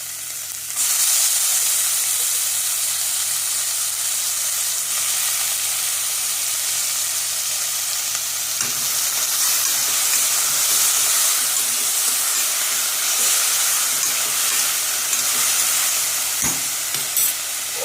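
Tomatoes roasting in a hot pan give off a loud, steady sizzle and hiss that runs unbroken for the whole stretch, close up, with faint stirring scrapes and no voices.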